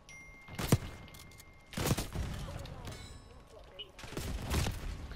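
AK rifle fire in the shooter game Black Ops 6 comes in a few short bursts of shots spread across the moment, under and between excited voices.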